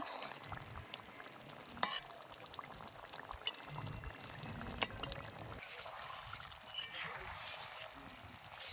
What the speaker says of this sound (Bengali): মাছটা এবার আমি ঢেলে নেব।